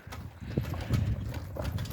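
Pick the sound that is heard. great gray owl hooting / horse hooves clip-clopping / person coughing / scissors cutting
horse hooves clip-clopping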